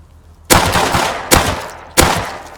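Three sharp gunshot bursts from the video game Rust, spaced about a second apart, each loud and close with a short decaying tail.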